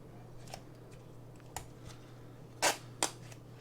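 A stencil is peeled off a dyed Discmania Essence plastic golf disc, giving faint scratchy picking and then two sharp, crisp tearing rips close by over a steady low hum.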